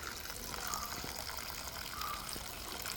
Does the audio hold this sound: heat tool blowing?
no